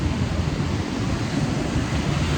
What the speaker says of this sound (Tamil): கடல் ரொம்ப அக்ரெசிவாக இருக்க மாதிரி.